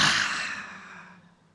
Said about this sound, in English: One more time, inhaling. Maybe super loud exhale.